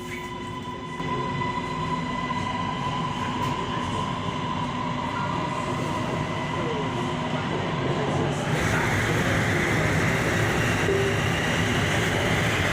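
Bangkok MRT Blue Line metro train ride from Silom station, a steady rumble of the moving carriage with a constant electric hum and faint track noise, growing slightly louder and brighter in the last few seconds.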